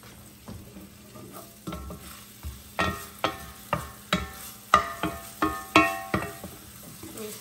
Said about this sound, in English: Saute this just to get it a little tender.